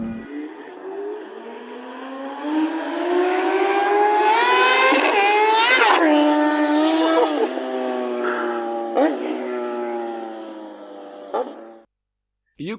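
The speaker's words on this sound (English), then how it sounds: "You could clearly tell it was a motorcycle" A motorcycle passes in a played-back recording, its engine note rising and sliding through gear changes, swelling loud as it nears and fading away, with a brief abrupt cutoff at the end.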